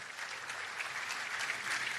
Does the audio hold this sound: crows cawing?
no